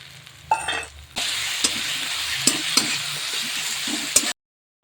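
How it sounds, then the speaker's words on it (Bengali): Tomatoes and a spice paste fry in a pan with a steady sizzle, broken by a few sharp scrapes and knocks of stirring, up close and without talk; it ends abruptly in silence. "এখন আমি এই পেস্টটা দিয়ে দিলাম। এখন আমি টমেটোগুলো দিয়ে দিলাম।"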